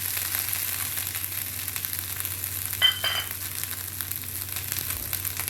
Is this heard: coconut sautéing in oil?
yes